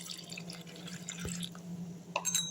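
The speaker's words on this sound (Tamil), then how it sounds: "இப்போ இதில் அதே அளவு 1 கப்பு தண்ணி நம்ம ஊற்றிடணும்." Water poured from a cup into sprouted ragi flour for porridge, a steady close trickle with splashy dripping throughout, alone with no talk.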